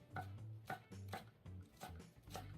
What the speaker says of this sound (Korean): 4등분 해서 대파 또 다져볼게요.